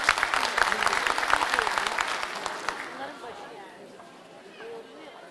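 An audience at a Yörük Türkmen cultural night in İzmir claps loudly to welcome a speaker, the dense applause lasting about three seconds before fading into quieter crowd murmur and scattered sounds.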